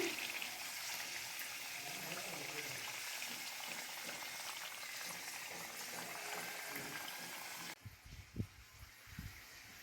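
Papdi frying in hot oil gives a steady, dense crackling sizzle that runs unbroken for several seconds, then drops off abruptly into a few soft knocks and low thuds near the end.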